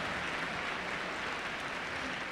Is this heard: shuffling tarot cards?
no